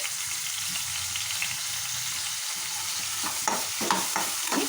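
Sliced onions and green chillies frying in hot oil with whole spices for a potato and fenugreek leaf curry, a steady close sizzle with stirring scrapes of a spoon in the pan near the end.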